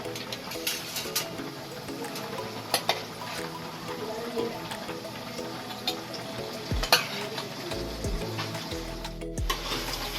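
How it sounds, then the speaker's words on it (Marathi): Chicken frying in masala in a pan for Konkan-style chicken biryani, a steady soft sizzle with occasional stirring scrapes and clinks, fairly quiet and close, with no talk. "आणि आता ते मस्तपैकी फ्राय करून घ्यायचं"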